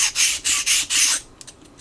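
Four rhythmic strokes of sandpaper rubbing on the wooden steps of a 1/84 scale HMS Victory model, close and steady, then a few lighter scratches as the sanding tapers off.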